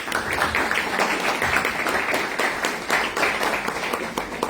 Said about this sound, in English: give the city a round of applause